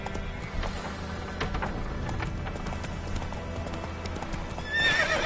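A horse gallops in The Witcher 3: Wild Hunt, its hooves beating a quick, steady clip-clop rhythm up close, and a sharp whinny rises near the end.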